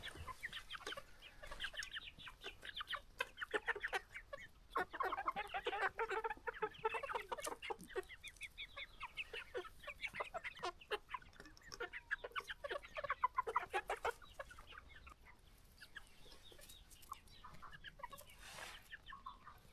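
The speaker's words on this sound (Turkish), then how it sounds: "Büyük ihtimal horoz." Chickens cluck and squawk in a busy, continuous chatter, several birds close by, with brief louder bursts throughout.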